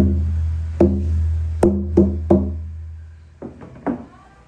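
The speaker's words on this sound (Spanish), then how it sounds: "Esos son los tambores tradicionales que hacemos" Several deep strikes with a stick on a traditional 50-centimetre mule-skin drum, spaced irregularly and ringing out low and resonant, close by with no voices.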